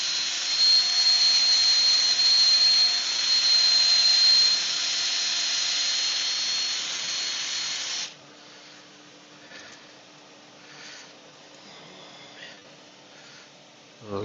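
A steady, loud mechanical whine from a wood lathe turning a pitch pine bowl runs for several seconds and then cuts off abruptly, leaving quiet room noise.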